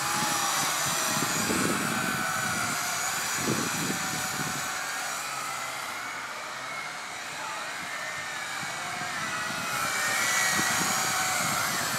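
Whining rotors of a WLtoys V666 quadcopter drone hover steadily nearby, pitch wavering slightly as it holds position, with faint low rumbles underneath and no speech.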